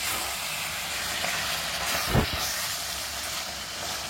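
Pepper chicken with curry leaves fries in a pan, giving a steady close hiss and sizzle that swells briefly into a louder burst near the middle before settling back.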